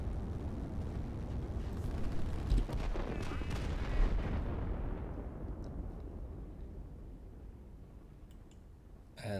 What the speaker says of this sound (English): And here comes the rocket.